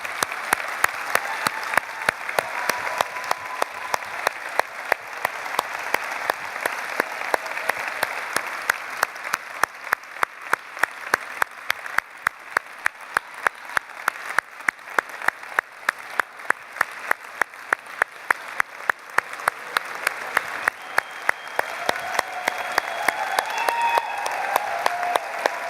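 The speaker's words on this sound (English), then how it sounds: "I think they deserve a huge round of applause for that" An audience applauds in one long, steady round of clapping that holds at an even level for about twenty-five seconds, with no voices over it.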